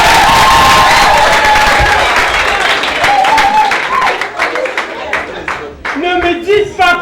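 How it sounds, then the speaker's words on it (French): Audience applauding themselves at a school gathering in Yaoundé, Cameroon: loud, dense clapping with cheers and shouts from a crowd, voices mixed in, thinning toward the end as scattered claps and chatter remain. "Applaudissons pour nous."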